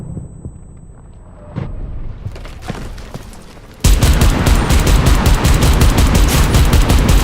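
Sudden, loud, sustained automatic gunfire erupts about halfway through a battle in the video game Enlisted, a dense rapid stream of shots after a quieter stretch with a few scattered distant bangs.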